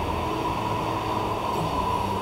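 Subway train stopped in a tunnel, heard as a loud, continuous rumble with a steady hum running through it, close by and unbroken, with no talk.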